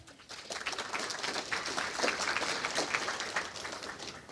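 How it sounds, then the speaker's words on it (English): Steady applause from a conference audience fills the room, a dense wash of clapping that holds at an even level before easing slightly at the end. "A big round of applause, please, for Dan."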